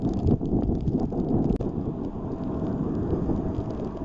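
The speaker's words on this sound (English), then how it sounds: "The wind is blowing real hard." Strong wind buffeting a microphone while riding a mid-drive electric bike up a hill, a loud continuous low rumble with gusty surges and one brief dropout midway, no speech.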